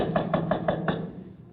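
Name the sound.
knocking on a door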